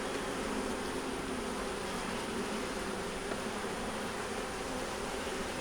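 Honey bees swarm over a hive frame holding brood, honey and nectar during a colony check, producing a steady, dense buzzing hum that stays close and even throughout with no talk.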